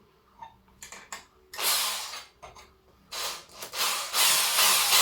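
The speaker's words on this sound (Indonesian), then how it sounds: "Saya ini pakai mata bor yang 5 mili, catnya 10 mili, bor fish ya teman-teman" Bursts of a 5 mm fish drill bit biting into wood, a few short starts followed by longer grinding runs, close and loud with no talking.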